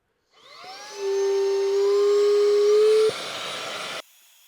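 A REDTIGER handheld vacuum cleaner switches on and runs at full power, its motor whine rising quickly to a steady, loud, high-pitched hum for about three seconds before cutting off abruptly.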